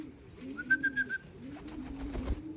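Free-flying pigeons give a short, clear cooing call, with soft wingbeats and faint birdsong in an open outdoor setting.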